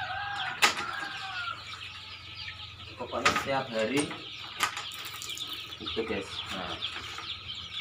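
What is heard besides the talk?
chickens clucking at a chicken farm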